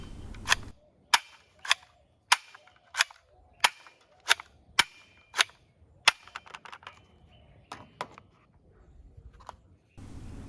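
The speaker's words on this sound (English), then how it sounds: "And now I have a revolver." A toy police revolver cap gun fires a string of about a dozen sharp, dry cracks, evenly spaced at first and then more irregular, close and loud against near silence.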